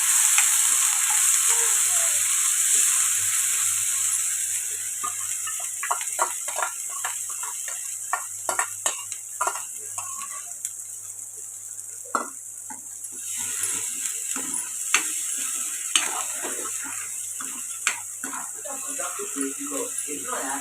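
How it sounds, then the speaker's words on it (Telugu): Onion, cashew and tomato paste frying in oil in a pan for paneer curry, giving a steady sizzle with scattered clicks and stirring taps throughout, close and moderately loud. "పేస్ట్ చేసి పెట్టుకున్న ఉల్లిపాయలు జీడిపప్పు టమాటా పేస్ట్ ఇది ఫ్రై చేసుకో"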